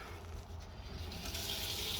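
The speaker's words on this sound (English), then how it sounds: "So go ahead and open up the water." Water runs steadily from a kitchen tap into a sink, a continuous close gushing hiss at a constant level with no talk over it.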